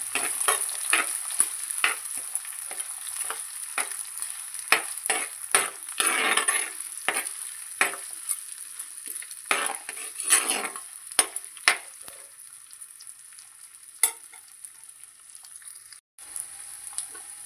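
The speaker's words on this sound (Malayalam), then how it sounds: "ഉള്ളി ഇട്ട ശേഷം നമുക്ക് നന്നായിട്ടൊന്ന് വഴറ്റിയെടുക്കണം." Chopped shallots sauté in a pan for a Kerala-style chicken thoran. A spoon repeatedly scrapes and clinks against the metal over a light sizzle, with quick, irregular strokes that thin out toward the end.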